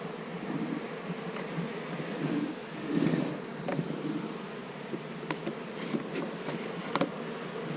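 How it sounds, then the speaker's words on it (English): A steady, low insect buzz of many honey bees at a beehive fills the space, with a few louder swells as individual bees pass close; no voices. "There's more bees over here."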